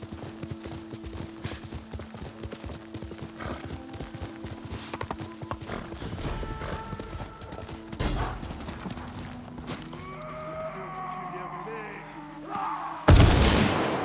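Horse hooves galloping in the Ghost of Tsushima video game, a steady clip-clop rhythm running through the whole stretch with ambient game sounds and a loud burst near the end.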